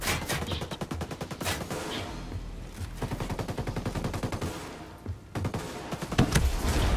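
Rapid, dense gunfire and explosive blasts rattle through a Terminator video game battle where rockets are being fired, loud and nearly continuous with brief gaps.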